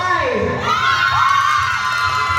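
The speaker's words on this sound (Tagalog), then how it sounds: "magkakaroon po tayo ng hiyawan kapag ka nabanggit yung number ng table nyo" A Christmas party crowd at tables erupts in loud shouting and cheering, with high voices whooping over a dense, sustained roar of many people close by.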